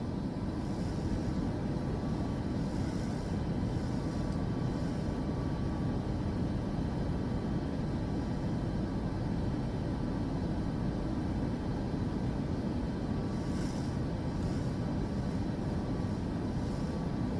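Boeing 737 airliner in Microsoft Flight Simulator 2024, a steady, unbroken engine roar and airflow rumble holding at an even level throughout, with no voices.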